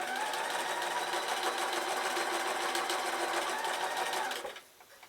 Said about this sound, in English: feed the edge of the fabric under the foot and stitch straight onto the next one.